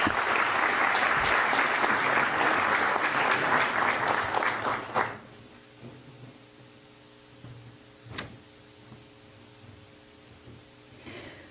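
Loud applause from an audience at a formal ceremony in Vitória da Conquista, steady dense clapping for about five seconds before cutting off abruptly, leaving a faint hum and a single sharp tap.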